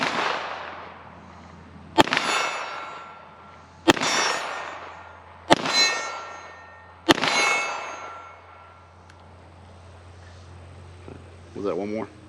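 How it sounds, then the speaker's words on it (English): Canik TTI Combat pistol fired with a loose, limp-wristed grip: four loud, close gunshots about two seconds apart, each with a ringing decay, followed by a voice near the end. "So we'll start off 5 rounds limp wristing and then finish off the mag gripping it tight."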